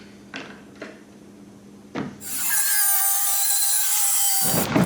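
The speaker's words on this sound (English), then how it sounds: "Now we get a little jigsaw." Small jigsaw cutting wood in a garage, a steady buzzing rasp starting after a few light knocks and handling taps, close and loud for a couple of seconds.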